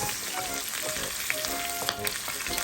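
Half an onion sizzles in melted butter in a pan for pork pineapple, giving a steady, close frying hiss with faint crackles and occasional soft pops, no talking.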